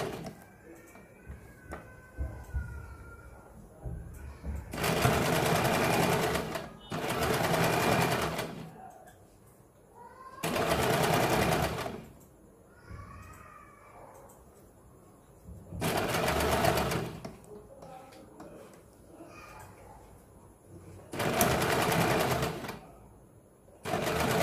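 A sewing machine stitches along a folded fabric edge in several loud, steady bursts of whirring needle motion, each a second or two long, separated by quieter pauses with brief talk and handling noise.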